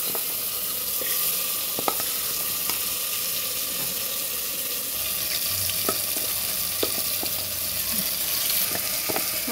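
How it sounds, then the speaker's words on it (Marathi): Marinated vegetables hit hot oil already spiced with mustard seeds and cumin for a vegetable biryani, giving a steady, close sizzle and fry with scattered crackles and pops throughout. "आता यामध्ये ज्या मॅरिनेट करून घेतलेल्या ज्या भाज्या आहेत त्या याच्यामध्ये घालून घ्यायच्या."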